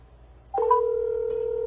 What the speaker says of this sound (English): Let's see if we can just get Hitman on the phone real quick